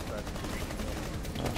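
Video game gunfire rattles in a rapid, continuous burst at moderate loudness, dense and even, with a voice faintly present underneath.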